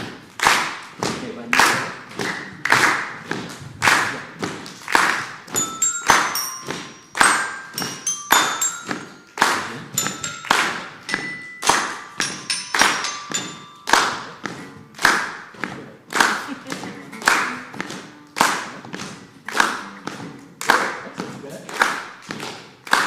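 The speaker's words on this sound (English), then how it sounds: "I'm going to ask everyone to clap one more time" An audience at an afternoon dialogue event with Daryl Davis claps in a steady, fast unison rhythm for over twenty seconds, each beat a crisp thud, with brief cheers and sung tones mixed in partway.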